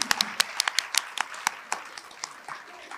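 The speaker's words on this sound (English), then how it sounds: "Can we please give our sponsors a huge round of applause for the phenomenal support?" Sharp, separate hand claps from a small audience at an awards event, quick at first and then thinning and fading over three seconds.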